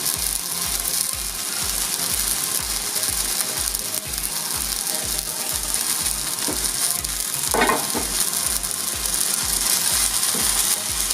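Vegan blueberry pancakes fry in coconut oil in a pan, giving a steady, close, continuous sizzle and crackle that holds evenly throughout with no talking.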